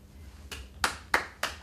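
Four sharp hand claps in a slow, uneven rhythm, close and fairly loud, from a small group at a care home for the elderly, with no talking.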